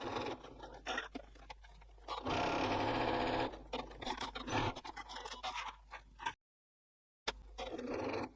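A sewing machine stitches along the folded edges of fabric pouch straps, its motor running in bursts of steady whirring broken by short pauses and one silent gap.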